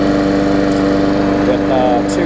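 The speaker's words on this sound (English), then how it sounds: "With 2 running mowers for you, so I can get another post up." A Bolens lawn mower engine runs steadily at close range, a loud, even droning hum with a fast regular firing pulse and no change in pace, with a voice heard faintly alongside.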